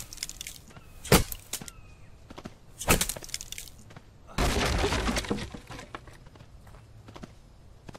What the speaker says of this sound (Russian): А давайте я попробую дерево сломать